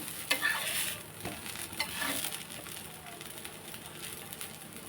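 Dosa batter cooks on a hot pan with a faint, steady sizzle and crackle, broken by a few sharp scraping and clinking touches near the start.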